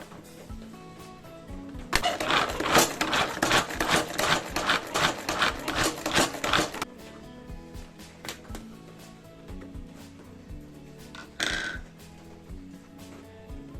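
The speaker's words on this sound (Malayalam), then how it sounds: "ഇതുപോലെ ചോപ്പറിലിട്ടിട്ട് വളരെ സിമ്പിളായിട്ട് പെട്ടെന്ന് ഉണ്ടാക്കിയെടുക്കാൻ പറ്റും" A vegetable chopper whirs through beetroot in a dense, rapid chopping burst of about five seconds, loud and close, then stops into quieter handling clatter with a brief rattle near the end.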